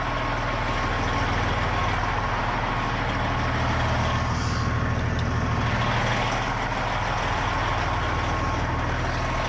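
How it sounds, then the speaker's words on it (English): A truck engine idles steadily and close by, a constant low rumble that runs without a break, with a faint hiss rising briefly partway through. "Truck is on because I don't think I can turn on high beams without the truck working"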